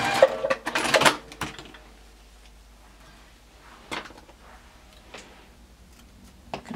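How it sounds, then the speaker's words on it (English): A sewing machine stitches a quilt block in short bursts: a dense rattling run at the start, then quiet stretches broken by brief mechanical clicks and another short burst near the end. "so now we're going to go on the sewing machine and just sew it"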